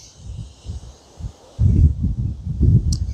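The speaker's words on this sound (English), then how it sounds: "It is very windy today" Gusty wind buffets a covered microphone close by in low rumbling bursts, getting stronger halfway through, with faint rustling in the background.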